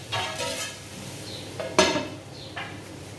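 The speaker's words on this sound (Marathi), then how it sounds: "परत एकदा झाकण ठेवणार आहे" A metal lid set down on a pan of sabudana khichdi cooking on the stove, with a few close clinks and scrapes against faint sizzling and kitchen background.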